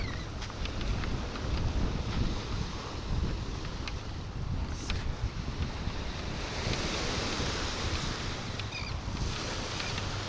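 Strong wind gusting at a Florida shore, buffeting the microphone with roaring broadband noise over surf washing in, continuous and loud throughout with no voices.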